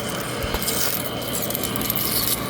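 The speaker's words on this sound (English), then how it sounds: "Very little difference in the sound of the lathe and the transmission." A 1939 Monarch lathe cuts metal in a small workshop, a steady rasping, scraping drone with faint mechanical whine running continuously and no talking.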